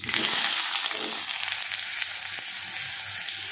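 Mustard seeds and onions fry in hot oil in a pan for a mutton curry, giving a loud, dense hiss with crackling pops and light stirring up close, with no speech.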